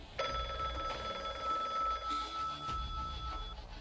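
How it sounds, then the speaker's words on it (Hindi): A telephone rings with a bright, steady electronic trill that repeats in short bursts, close and fairly loud, with no one speaking. "कहीं ये अंडा चोर का फोन तो नहीं?"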